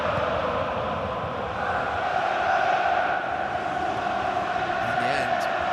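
Steady roar of a large football stadium crowd at an Arsenal versus Manchester City EFL Cup Final, a continuous broad wash of massed voices holding level throughout, loud and unbroken with no clear breaks.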